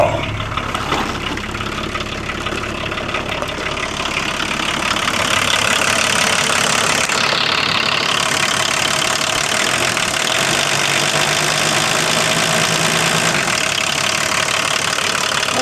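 A diesel engine idles steadily on used motor oil as fuel, giving a dense, loud, continuous rumble with a slightly rough, knocking edge that holds throughout.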